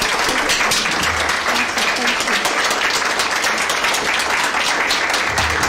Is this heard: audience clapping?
yes